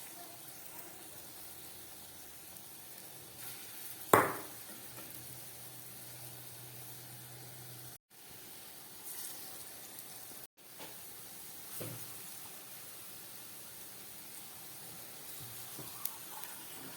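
Small fritters of masoor dal paste drop into hot oil on a low flame, giving a soft, steady sizzle with a sharper burst near the start and faint spatters after.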